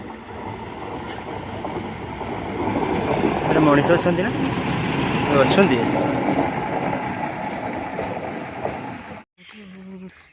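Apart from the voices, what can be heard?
train passing on railway line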